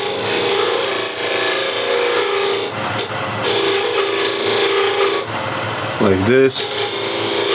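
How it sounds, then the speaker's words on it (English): A hand scraper rasps steadily across the surface of wood spinning on a lathe, a loud continuous scraping with the lathe running, briefly interrupted and joined by a short spoken comment. "using something like this scraper that many of you may perhaps have, you can scrape the surface."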